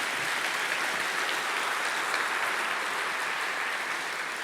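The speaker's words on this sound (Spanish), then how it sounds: "Denle un aplauso al Señor." A church congregation applauding during a sermon, a dense, even wash of clapping at steady volume with no distinct individual claps and no speech.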